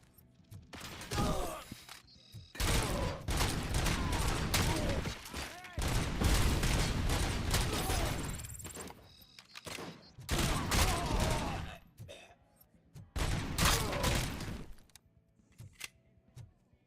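Gunfire in the video game Robocop: Rogue City comes in loud sustained bursts of rapid shots separated by brief lulls, with voices speaking between and over the volleys.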